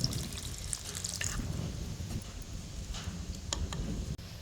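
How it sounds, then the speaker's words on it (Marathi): Hot water splashes and pours into a cooking pot of drumstick pods, a continuous liquid wash with a few small clinks, fairly close and without talk. "मी आता ह्याच्यात थोडंसं पाणी घालतो गरम पाणी घालायचं"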